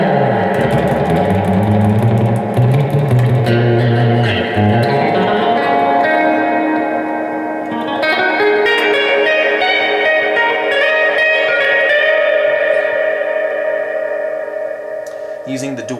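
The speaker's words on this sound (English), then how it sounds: "Let's check out the spring reverb." Electric guitar played through the spring reverb setting of a Strymon BigSky pedal, sustained chords and notes washing into a long, splashy reverberant tail that fills the whole stretch, loud and close.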